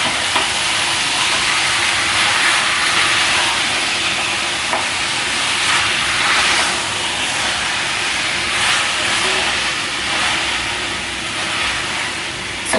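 Mutton sizzles and fries steadily with raw ginger and garlic in a pan, a continuous close hiss with soft crackle and occasional stirring scrapes, no voices over it.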